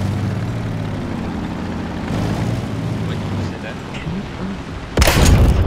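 An aircraft in War Thunder roars overhead with a steady, loud droning rumble, then a sharp, louder burst near the end, amid battle noise.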